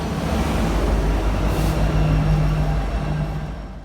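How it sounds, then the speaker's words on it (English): Freight train locomotive rolling past outdoors in a neighborhood, a steady low rumble and rail noise at moderate distance that holds evenly, then eases slightly as it passes. "There goes the locomotive car, or the engine that's pulling the whole train."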